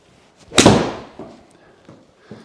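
A golf ball struck with a near-full 8-iron on a par 3 course, slightly into the wind: one sharp, loud impact with a decaying ring, followed by faint scattered thuds.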